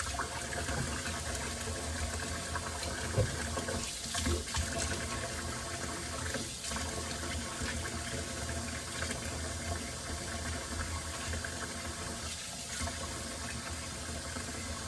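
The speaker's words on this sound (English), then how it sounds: "I'm gonna wash my hands." Tap water runs steadily into a kitchen sink during handwashing, a continuous loud splashing rush with small surges and no talk.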